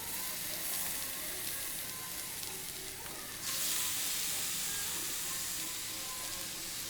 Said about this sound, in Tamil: இந்த அரைச்ச விழுதையும் அதில் போட்டு ஒரு பரட்டி இந்த பச்சை வாசனை போகிற வரைக்கும் கொஞ்சம் நல்லா வதக்கணும்